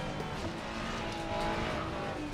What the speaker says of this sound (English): this car sounds so good